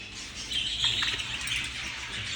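Several male budgerigars chirp and twitter in a home aviary, a steady busy chatter of small bird calls close by, with occasional brighter tweets and faint wing movement.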